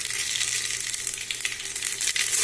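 Cumin seeds sizzling in hot oil for kadhi, a steady bright frying hiss with scattered crackles and pops, close and continuous throughout.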